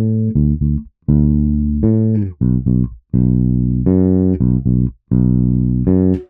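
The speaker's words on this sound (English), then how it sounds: "we're going to create this bass line for each individual bar" A bass guitar plays a country bass line of roots and fifths, alternating between two low pitches in short plucked phrases, clear and up front, with brief gaps between notes and no voices.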